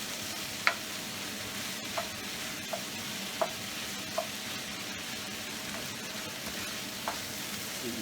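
Shrimp and sausage paella rice being tossed and stirred in a pan, a steady low sizzle with a few sharp clacks of the spoon or pan scattered through, close and fairly quiet with no talking.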